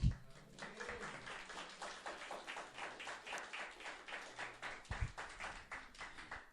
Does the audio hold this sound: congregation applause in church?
yes